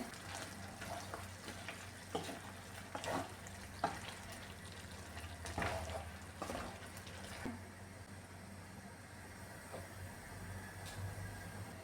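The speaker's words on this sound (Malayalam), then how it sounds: "ഇനി ഇതൊന്ന് തുറന്ന് നോക്കി ഒന്ന് ഇളക്കി കൊടുക്കാമേ" Chicken roast in a covered pan being stirred, a soft continuous sizzle broken by scattered scraping clicks and knocks of the spoon against the pan, fairly quiet and without talk.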